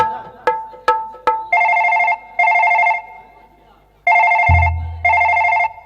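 Phone call placed on a telephone: a few sharp key-press beeps, then loud repeated ringing bursts in an even on-off rhythm, close up, with a low rumble entering partway through.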